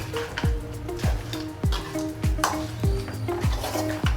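A spoon stirs spicy goat head curry in a pan, giving about eight evenly spaced scraping knocks over a constant low sizzle, close and moderately loud, with no talking.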